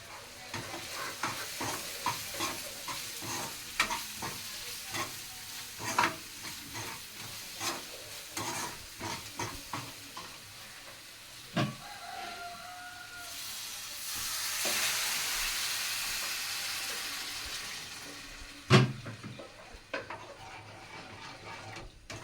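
Chili powder and masala powder frying in a hot pan, a steady soft sizzle broken by repeated sharp scrapes and clinks of a spoon stirring against the metal, with a louder hiss swelling midway and a knock near the end.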